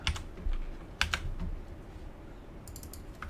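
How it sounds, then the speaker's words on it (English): Keystrokes on a computer keyboard while setting up a PopcornFX particle effect, a few scattered clicks and a short quick burst near the end, moderately quiet in a calm room. "So I'll just type length."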